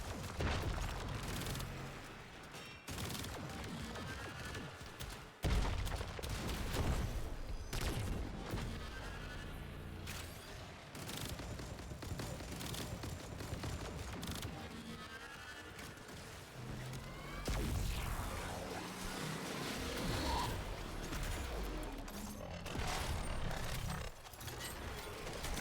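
Rapid weapon gunfire during a boss fight in the Warframe-style Profit Taker encounter, dense bursts and booming impacts running continuously with crashes and mechanical clatter throughout.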